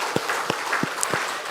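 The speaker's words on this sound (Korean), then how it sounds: "한번 큰 격려의 축복의 박수를 드리도록 하겠습니다" A church congregation at a Sunday service gives a short round of applause, a close, dense patter of many hands clapping, with a few sharper individual claps standing out.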